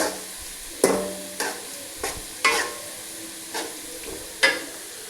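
Onions fry in a pan with a steady sizzle, punctuated by about six sharp spatula scrapes and stirs at a regular pace, close and fairly loud, with no voices.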